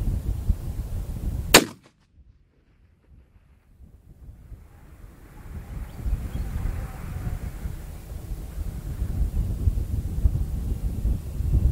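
A single 7mm WSM (Winchester Short Magnum) rifle shot fired outdoors at long range, a sharp loud crack that stops abruptly, followed by steady wind rumbling across the microphone.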